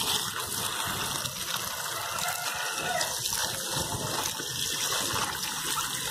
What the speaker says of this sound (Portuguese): lavar aqui, né, na água corrente